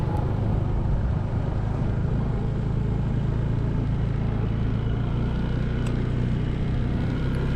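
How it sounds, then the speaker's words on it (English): A Honda ADV 160 scooter cruising through downtown Reno, its quiet engine a steady low hum blended with constant wind rush, even and unbroken throughout with no voices. "Since the ADV is a pretty quiet bike, we're not going to disturb anybody back here."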